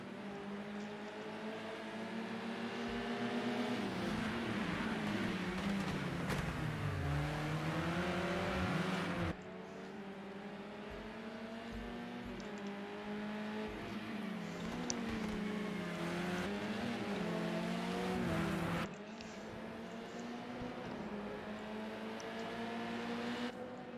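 Race cars lapping the Long Beach street circuit, engines droning and rising in pitch through shifts as cars pass, with a steady loud roar and abrupt changes as the camera angle switches.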